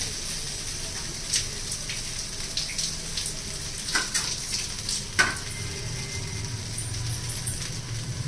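Chow mein noodles being stir-fried in a pan give a moderate sizzle, with scraping and clattering stirring sounds, a few sharper knocks and a low background rumble.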